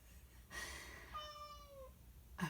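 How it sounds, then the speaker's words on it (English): A house cat meows once in a thin, falling cry, faint and somewhat distant in a quiet room, framed by soft rustling sounds before and after. "got a cat yelling at me."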